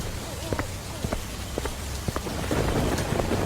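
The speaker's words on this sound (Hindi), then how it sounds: "बारिश पहले के मुकाबले बहुत तेज हो चुकी थी।" Heavy rain pours steadily while sharp cracks of thunder break through repeatedly, the downpour growing louder toward the end.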